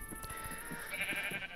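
Sheep in the Minecraft video game bleat in several short, quiet calls, one after another, over a faint steady game background.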